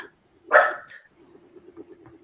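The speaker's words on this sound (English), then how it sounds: "My dog is being crazy." A pet dog in a home barks once sharply and loudly, followed by softer repeated whimpering yips in the background.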